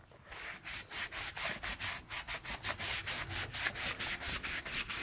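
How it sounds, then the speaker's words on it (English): A stiff brush scrubs rubber floor mats in quick, rhythmic back-and-forth strokes, about four per second, each a close, crisp scratchy swish, alone and fairly quiet. "So I'll do it with a stiff brush and then I'll go in with a slightly softer brush"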